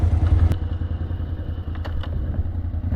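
A Polaris off-road vehicle on 26-inch tires runs its hot engine at full throttle, a loud, close, rough low drone with a few sharp clattering knocks over it.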